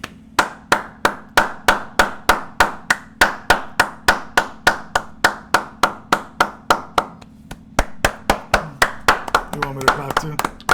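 A single person claps loudly and steadily, about three claps a second, each sharp and close, slowing and loosening near the end as a voice murmurs underneath.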